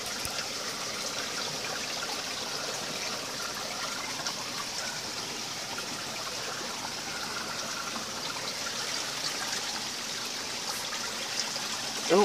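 Water streams and trickles steadily over rocks nearby, a constant bright babbling rush with no talking.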